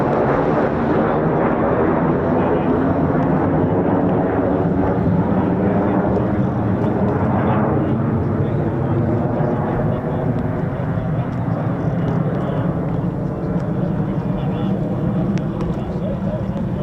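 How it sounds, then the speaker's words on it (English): A pair of RAF Eurofighter Typhoon FGR4 fighter jets pass overhead during training at RAF Coningsby, producing a loud, sustained, rumbling roar that fills the whole stretch without letup, with a voice talking over it. "Right, two Typhoons looking good up here."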